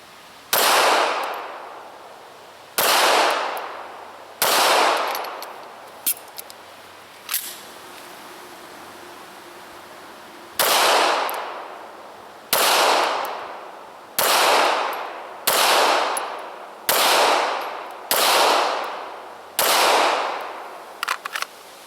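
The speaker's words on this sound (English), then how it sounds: "I'm just going to do a little shooting on it just to break it in a wee bit" Shots from a Smith & Wesson M&P pistol fired to break in a new barrel, about a dozen loud sharp reports with ringing decay, spaced a second or two apart after an early pause, no talking.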